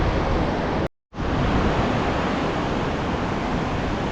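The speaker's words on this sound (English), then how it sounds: "So there's the Nevada Fall." Steady, dense roar of Nevada Fall in Yosemite, a waterfall rushing continuously and loud close by, broken only by a brief dropout of near silence before the torrent resumes unchanged.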